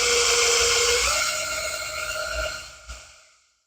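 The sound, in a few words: drill twisting metal filler rod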